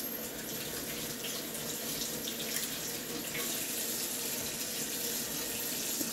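Running water from a tap splashes steadily and continuously at close range, a hissing, bubbling wash with no talking.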